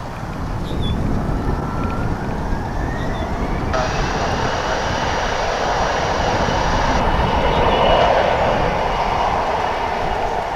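Jet airliner taking off from DFW Airport bound for Midland, Texas, a steady broad roar that builds gradually and swells loudest near the end, heard from a distance with no talking.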